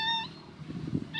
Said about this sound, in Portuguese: Tá miando por quê?